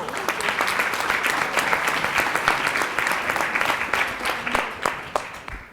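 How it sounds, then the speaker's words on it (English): Audience at a summit panel session applauding themselves, a lively round of clapping with individual claps audible, fairly close and steady before tapering at the end. "Give yourselves a round of applause."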